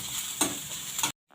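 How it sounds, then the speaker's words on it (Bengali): Chopped onion and garlic sizzle in hot oil in a wok, a steady close frying hiss with two brief stirring scrapes, then it cuts off into near silence. "এই পেঁয়াজ কুচিগুলো হালকা আমি ভেজে নিচ্ছি।"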